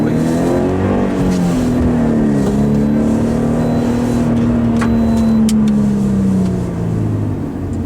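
A BMW car engine drones and shifts pitch as it drives off, a sustained mid-level hum with light crowd or ambient noise around it.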